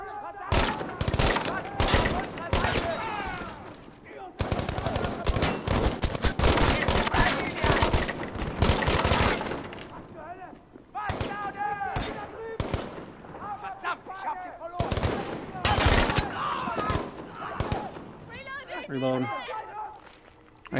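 Rapid bursts of gunfire crackle through a video game battle, dense volleys of shots and fusillades under frequent excited talk from a player, with pauses between clusters and footstep-like movement in the mix.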